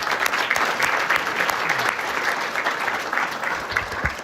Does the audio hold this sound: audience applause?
yes